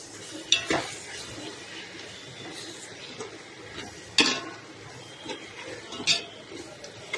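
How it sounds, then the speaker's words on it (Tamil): A spoon stirs a handful of mint and coriander into food in a cooking pot with soft scraping and sizzling, broken by a few sharp clinks against the pot's side. The sound is close and there is no talk. "ஒரு பிடி புதினா, கொத்தமல்லி, அதையும் போட்டு நல்லா மிக்ஸ் பண்ணிவிடுவோம்"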